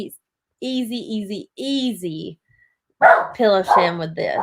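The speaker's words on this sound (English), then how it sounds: "So if you guys hear my dog barking" A pet dog barks loudly and close by in two bursts of repeated yapping barks, separated by a short quiet pause, while someone talks briefly at the start.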